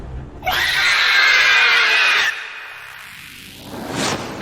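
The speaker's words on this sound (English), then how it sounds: "The Wyvern's orange eyes burned, and it screeched in challenge" A wyvern, a fantasy creature of dragon, bat and scorpion parts, lets out one loud, drawn-out screech of about two seconds. A fainter rising cry follows near the end.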